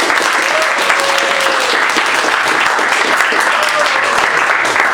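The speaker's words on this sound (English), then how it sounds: "Let's give these guys one more round of applause." An audience gives a loud, sustained round of applause after a disaster-preparedness class presentation, dense clapping filling the room from start to finish with a few voices mixed in.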